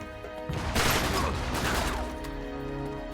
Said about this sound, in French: tu leur tires des balles dans la tête